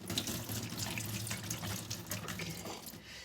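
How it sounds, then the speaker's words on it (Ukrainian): Water runs from a kitchen tap while canned beans are drained and rinsed, a steady splashing gush with small irregular spatters, close and fairly quiet, without talk. "Виливаємо ми її, я не люблю цієї води."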